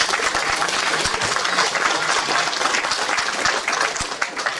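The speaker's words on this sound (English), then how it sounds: "So a round of applause." Audience applause at a community open house for a First Nation foundation agreement, a loud, dense, steady wash of many hands clapping that fills the whole stretch without talk.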